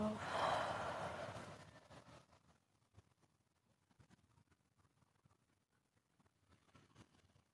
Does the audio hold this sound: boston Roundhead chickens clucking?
no